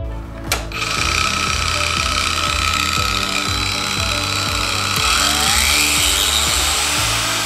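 A Parkside 20V cordless angle grinder with a 125mm disc spins up after a click and runs steadily at a loud, high whine with a rough, slightly pulsing motor buzz, close by and alone.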